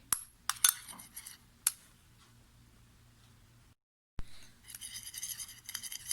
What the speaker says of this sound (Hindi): इसको अच्छे से आप मिक्स कर लेंगे ताकि इसमें क्रीमी टेक्सचर जो है वो ख़त्म हो जाए। तो ये देखिए, हम अच्छे से मिक्स करेंगे।